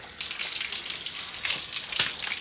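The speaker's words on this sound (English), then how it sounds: "it just flushes all that water out" Water rushes steadily from an RV's Suburban water heater through an opened pressure-relief valve, a continuous close splashing gush with no talk.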